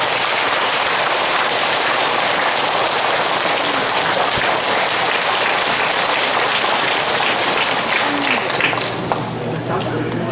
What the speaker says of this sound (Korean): 치료 이승 과장님을 박수로 모시겠습니다.